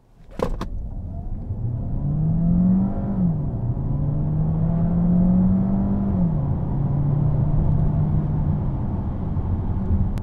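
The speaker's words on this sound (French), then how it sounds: "j'accélère à fond" A DS4 E-Tense 225 plug-in hybrid car accelerating at full throttle from a standstill, a steady loud drone climbing in pitch with a couple of distinct shift steps along the way.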